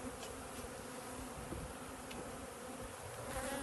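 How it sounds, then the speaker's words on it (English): A dense, steady insect drone of many honeybees humming together, close and continuous, with no voices. "There's plenty of bees in there."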